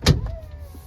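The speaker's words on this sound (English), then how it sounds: "You can hear it's binding up at the top." A short clunk and then a strained, whining electric window motor labouring briefly, close by and fairly loud, as a BMW E46 power window binds at the top.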